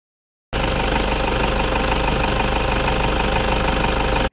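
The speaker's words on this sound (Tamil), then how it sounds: "இப்போ வந்து உங்களுக்கு இன்ஜினோட நாய்ஸ் நீங்கள் பாருங்கள்." A Toyota Innova engine idling, steady and loud at close range, a continuous mechanical drone with a fine knocking texture that starts abruptly and runs unchanged, with no voices over it.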